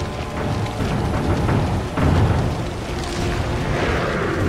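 A grenade goes off in Resident Evil 4, a loud rumbling boom that rolls on as dense noisy crackle and debris for several seconds.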